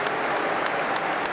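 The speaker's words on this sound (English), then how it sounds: "Warm applause for Elliot Anderson from Newcastle fans as he prepares to take the corner." Newcastle United fans applaud warmly at a football match against Nottingham Forest, a steady wash of clapping from a large crowd filling the whole short moment without letup.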